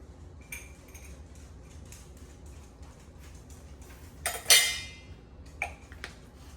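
Light metal clinks of a utensil against a pot while soup with bay leaf and rosemary is stirred, with scattered soft taps and one sharper clatter near the end, all fairly quiet with no talk.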